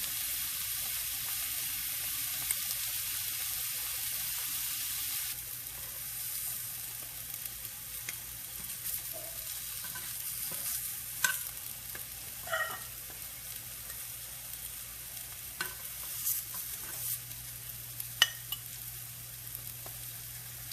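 Speck-wrapped scallops searing and caramelizing in a pan give a steady, quiet sizzle throughout, with occasional sharp pops and crackles spread across the stretch.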